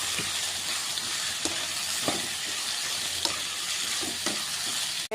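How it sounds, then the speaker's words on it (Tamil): Tomatoes sautéing with onion, chillies and eggplant in hot oil make a steady close sizzle, with occasional light scrapes and taps of a spoon stirring the pan. "தக்காளி நல்லா வதங்கிடுச்சு"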